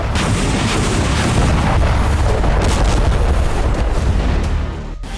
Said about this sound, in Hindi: जिसकी वजह से यहां जोरदार धमाका देखा गया